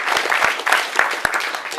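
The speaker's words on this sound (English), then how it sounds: "Let's give another round of applause to Mr." Wedding guests give the newlyweds, Mr. and Mrs. Rice, a brief, close burst of clapping.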